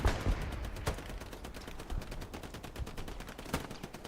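Gunfire in Hell Let Loose, a World War II shooter, crackles in rapid bursts and scattered single shots at mid distance, with sharp louder reports standing out over a dense battlefield rattle.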